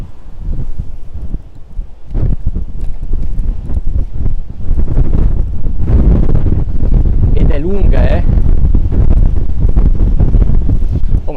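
Very strong wind buffets a microphone while cycling a bike path beneath the mountains at Limone sul Garda on Lake Garda, a loud continuous roar and rumble with gusts, under someone talking.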